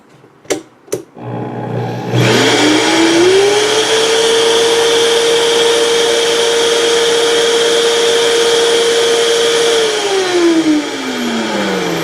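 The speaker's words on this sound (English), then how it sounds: "turning up the Vitamix blender all the way" A Vitamix blender powered through a watt meter switches on and spins up to full speed, its steady high motor whine holding for several seconds before winding down, after a couple of sharp clicks at the start.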